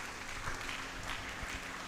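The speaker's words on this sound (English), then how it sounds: "He deserves another round of applause." A crowd claps continuously, a dense, fairly faint patter of many hands with no break.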